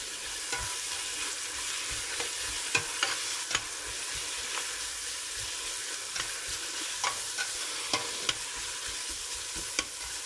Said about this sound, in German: Das Ganze ziehe ich jetzt glasig an.